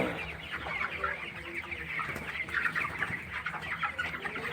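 Twenty-one-day-old broiler chickens clucking steadily in a poultry shed with fresh bedding, a dense, continuous flock chorus heard close and without talk.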